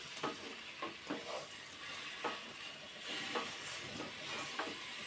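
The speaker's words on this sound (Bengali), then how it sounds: "সেটা আস্তে আস্তে নাড়তে নাড়তে চিনিটা ভালোভাবে গলে যাবে এটা কিন্তু নাড়তে হবে মাঝে মাঝে" Amla murabba cooks in a pan as the sugar melts, sending up a steady soft sizzle and hiss, with a spoon stirring through it in light, irregular scrapes and taps, close but quiet.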